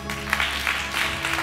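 At a dream and vision seminar, a congregation applauds in a brief, dense burst of clapping that fills the room, with tonal hum underneath.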